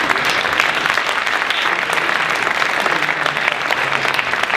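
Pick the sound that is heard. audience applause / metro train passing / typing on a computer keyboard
audience applause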